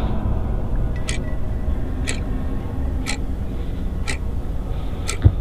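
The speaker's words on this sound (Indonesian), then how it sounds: "hanya meninggalkan suara detak jam di dinding kamarku" A wall clock in a bedroom ticks steadily, five crisp evenly spaced ticks about once per second over a low, constant background hum, with no voices.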